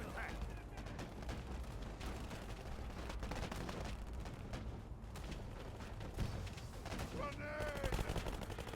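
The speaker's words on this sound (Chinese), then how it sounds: "小炮持续攻击，机枪还是架在一个老的地方" Dense gunfire and artillery from a War Alert 4v4 strategy match crackle continuously at low level, with scattered sharper blasts throughout and commentary in Chinese threaded beneath.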